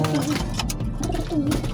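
Racing pigeons coo in soft, repeated, throaty phrases close by, over a low background rumble.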